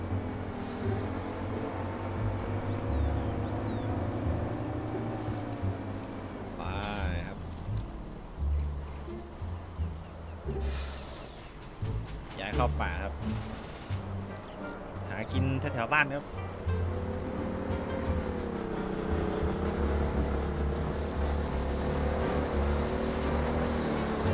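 Farming Simulator 19 vehicle driving, a steady low engine drone with shifting harmonic tones and occasional bursts of noise, running continuously while someone talks over it.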